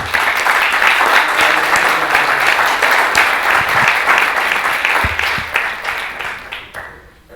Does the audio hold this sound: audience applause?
yes